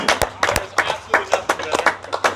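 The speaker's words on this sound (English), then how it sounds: "Round of applause for the Lord of the Two Strokes." A round of applause in a motorcycle shop as two-stroke bikes arrive, a few people clapping in an uneven, ragged rhythm of sharp close claps that lasts a couple of seconds, alone without talk.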